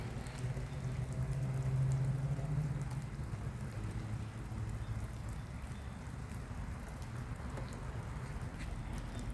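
Rain falls steadily outdoors beside a pond, a soft, even patter and hiss throughout, with a low hum rising briefly near the start and no voices.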